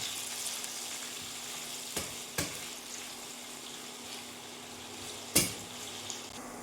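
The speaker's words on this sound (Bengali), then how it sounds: "পেঁয়াজগুলোকে ভাজবো সুন্দর করে" Onions frying in a pan for chicken korma, a quiet steady sizzle with a few sharp clicks and knocks of a utensil against the pan.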